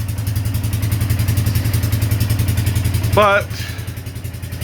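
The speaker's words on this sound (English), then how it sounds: "I got the four-wheeler, driven it out, let it idle for a while." A four-wheeler ATV engine idles steadily with a low, pulsing mechanical chug throughout, close by. Someone speaks briefly over it near the end.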